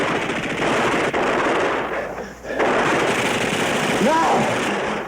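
Sustained machine-gun fire rattles into the trees in a television war drama, with dense, continuous bursts and a brief lull midway, mixed with battle noise and a shouted voice near the end.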